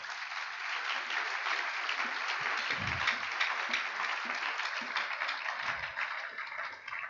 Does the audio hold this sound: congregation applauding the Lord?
yes